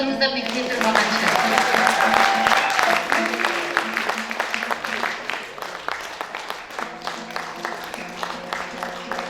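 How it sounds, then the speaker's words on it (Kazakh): Audience clapping at a concert of traditional Kazakh singers, a dense burst of applause that gradually thins into scattered claps, with sustained tones and some voices underneath. "Кішкене шапалақ ұра тұрыңыздар"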